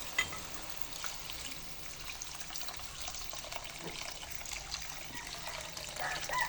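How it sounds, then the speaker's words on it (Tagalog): Water poured into a pan of sautéed white sardines, a steady trickling, splashing pour heard close up and alone at a moderate, even level. "Then, lagyan na natin ng tubig."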